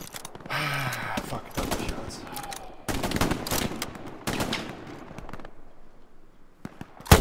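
Gunfire in the video game Hell Let Loose: clusters of sharp rifle and machine-gun shots crack in irregular bursts, some close and loud, with quieter gaps between, and a player's voice can be heard among them.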